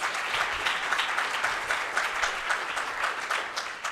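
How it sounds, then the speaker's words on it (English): An audience gives a round of applause for city council members at a St. Pete economic address, a steady, dense wash of clapping that holds evenly at moderate volume throughout. "If we can give them a round of applause, please."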